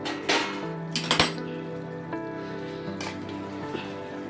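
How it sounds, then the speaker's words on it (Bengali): A metal lid lifted off a simmering pot of mutton curry, with a couple of bright clinks and clatters and a ringing metallic tone, followed by soft bubbling and light knocks. "ঢাকনাটা তুলে দেখছি"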